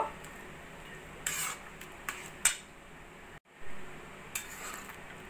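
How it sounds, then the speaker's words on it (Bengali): A spoon stirs chopped coriander through vegetable khichuri in a pot, quiet and close, with a few sharp clinks of metal against the pot rim and soft scraping between them. "ধনেপাতা কুচিটা ভালো করে মিশিয়ে নেব।"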